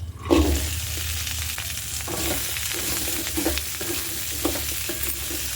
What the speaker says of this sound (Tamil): கொஞ்சமாக எண்ணெய் ஊற்றி இதை வதக்கிக்கலாம் வெண்டைக்காயை